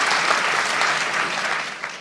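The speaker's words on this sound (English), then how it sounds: "Let's give him a round of applause as well." Audience at a post-show theatre Q&A giving a round of applause, a dense, continuous clapping from many hands, fairly loud and even for the whole stretch with no talking.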